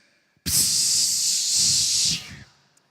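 A person mimics the hiss of bus air brakes with a sustained breathy rush of air, close and loud, fading out after a couple of seconds.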